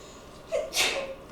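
A single sneeze erupts nearby in a classroom during a physics lesson, a short sharp burst preceded by a quick inhaling gasp, with a quiet room behind it.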